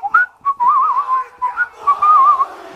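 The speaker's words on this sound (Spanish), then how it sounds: "Se fue silbando" A person whistles a wavering, lilting tune in short phrases with brief breaks, close and clear with no talking.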